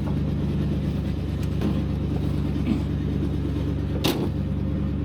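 A 1958 Cadillac engine runs at a steady idle, giving a continuous low, close rumble with an even hum that holds for the whole stretch, plus a brief rattle partway through.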